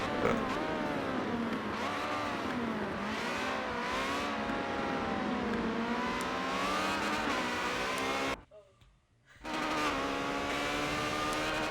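Ferrari 360 Challenge race cars at Monza scream through the chicane with high, rising and falling engine notes and sustained revving; the roar cuts out abruptly for about a second before returning.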